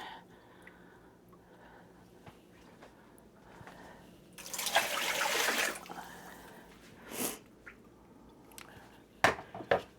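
Water pours out of hot canning jars in a broad splashing rush lasting about a second, with dripping and trickling before and after, then a couple of sharp glassy knocks.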